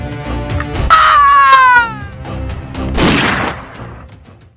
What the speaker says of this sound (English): The painful scream of the first victim was only a sign for the others to rage even more.